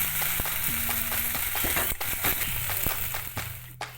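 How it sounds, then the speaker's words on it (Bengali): Shrimp and potatoes fry in hot oil in a pan, a steady close sizzle with scattered scraping and stirring taps across it. "দেখুন তেল তার মানে এটা চিংড়ি আর আলুটা কষা হয়ে গেছে"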